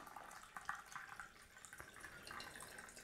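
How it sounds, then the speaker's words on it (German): Water is poured into a cold brew coffee maker, a faint, close trickling and splashing stream that runs unevenly for a few seconds with no talk over it. "Fülle ich das jetzt auf mit Wasser."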